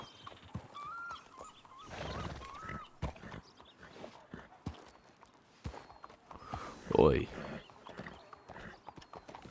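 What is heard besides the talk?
horse hooves clip-clopping in a video game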